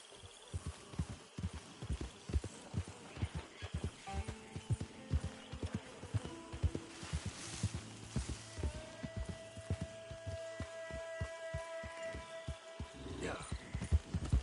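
Horse hooves clip-clopping at a steady walking rhythm in the Red Dead Redemption 2 video game, a continuous run of clear hoof strikes mixed with a musical score and ambient tones while a character's voice speaks.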